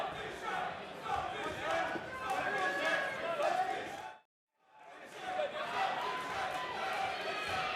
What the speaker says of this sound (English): The crowd going nuts for Dan.